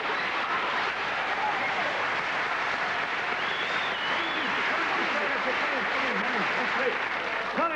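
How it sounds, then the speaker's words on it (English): Studio audience applause for a young guest on a British TV magic show, a steady, dense wash of clapping that holds at an even level throughout without pause. "Give her a big round of applause."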